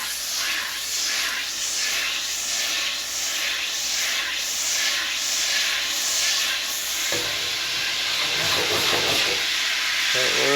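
Half and half cream heats in a pan on the stove, giving a steady, close hiss and sizzle that runs continuously and grows a bit busier with added bubbling and crackle toward the end.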